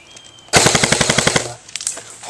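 A JG M4 airsoft rifle fires during a team death match, heard from a gun-mounted camera: a close, rapid burst of about a dozen sharp clicking shots lasting roughly one second, followed by faint rustling.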